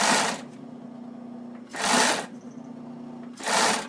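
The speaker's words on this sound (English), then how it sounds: "This machine doesn't have the best motor on it, so it's a little hard to control." A felt-making machine's weak motor runs in three loud whirring bursts, about a second apart, with a quieter hum in the pauses between them.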